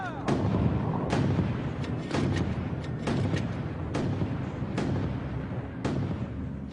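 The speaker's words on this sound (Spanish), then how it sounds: "Con los disparos de mortero del pelotón de Forbes, los canadienses mantienen la línea." Heavy mortar rounds fire again and again at uneven intervals, each a deep booming blast over constant rumbling battlefield noise.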